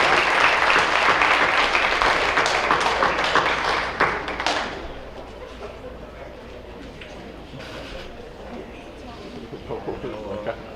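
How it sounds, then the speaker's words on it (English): Audience at a high school athletic awards night applauding, a loud dense burst of clapping that fades after a few seconds into scattered claps, taps and soft crowd murmur. "give them a nice round of applause"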